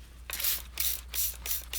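A handheld water spray bottle spritzes onto a paper towel in four or five quick, close, hissing bursts with short gaps between them.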